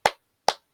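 Two crisp hand claps about half a second apart from third-grade pupils clapping in unison in a primary school classroom, close and clean with no voices over them.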